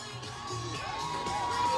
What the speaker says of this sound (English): where this massive crowd is coming out to cheer on all things Vibe